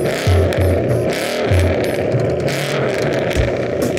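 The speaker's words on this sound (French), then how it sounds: "Une magnifique Mustang qui fait du bruit." A Ford Mustang's engine roars loud and close in a dense, continuous growl with a rattly edge, alone with no voices.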